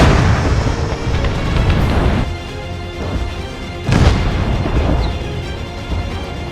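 Heavy booming weapon fire and explosions in a battle with laser weapons, loud and close, with a big burst near the start, another around four seconds in, and rumbling blasts rolling on throughout.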